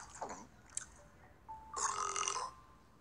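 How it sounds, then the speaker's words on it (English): A single drawn-out, gurgling burp rises loud after a couple of smaller throaty croaks, close and alone with no talk. "How dare you burp?"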